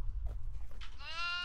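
Goats bleat in the horror video game Devour, a couple of drawn-out, wavering bleats rising near the end over a low rumbling background, fairly close and clear.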